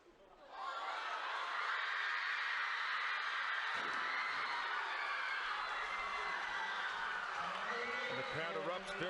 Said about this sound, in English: Crowd erupts, very happy with that.